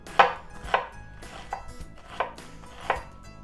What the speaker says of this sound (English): So what I do is I'm going to cut down this way and then slice it this way.